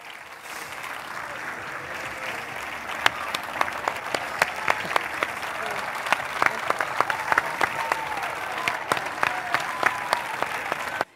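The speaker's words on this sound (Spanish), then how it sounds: "el autor se alegrará si escucha de sus aplausos una vez más" An audience claps at a senior citizens' day event in Puerto Santiago, a continuous spread of clapping with a few sharp, close individual claps standing out, and faint voices mixed in.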